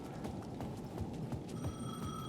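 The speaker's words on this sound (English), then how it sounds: "The payphone at the edge of the plaza was ringing again." A payphone in the video game Alan Wake rings from the edge of a plaza, a steady bell-like tone emerging in the last second over a bed of rhythmic, thudding clatter.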